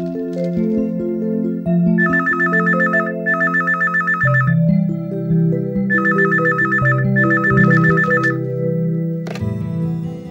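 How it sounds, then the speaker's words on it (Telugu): A telephone rings in repeated electronic bursts, two at a time with short pauses between them, loud and close over a steady musical background. "ఆండాళ్ళు, ఏమిటి ఉదయాన్నే ఫోన్ చేశావు?"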